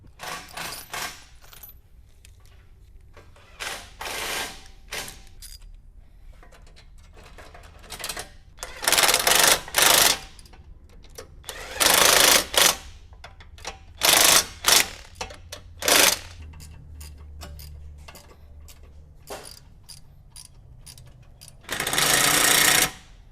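Bolts on the winch cradle brace of a front bumper mount on a 2019+ Mercedes Sprinter are tightened with a power tool, giving repeated loud rattling bursts separated by pauses.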